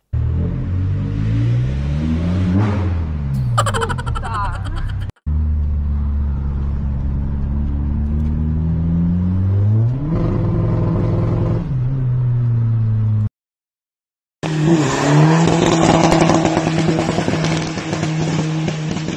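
A tuned Volkswagen G40-era car engine revs repeatedly, rising and falling in loud sweeps with a deep rumbling idle between, close and harsh, broken by a brief silence before a final sustained rev.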